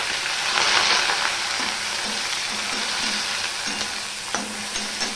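Spices, ginger, tomato and green chili fry in hot oil for bhoger khichuri, a steady close sizzle with occasional stirring scrapes and no voices.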